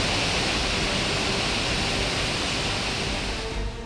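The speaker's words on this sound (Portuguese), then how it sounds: "Veja a força d'água dessa cachoeira." A waterfall in the Serra Gaúcha region of Rio Grande do Sul, swollen by heavy rain, roars as a loud, steady, broadband rush of falling water, continuous and close throughout with no voices.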